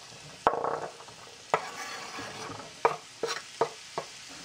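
A spoon stirs green beans and spices for a burrito filling in a hot pan, a few sharp scraping strokes spaced apart over a soft, steady sizzle, close and clear with no talking.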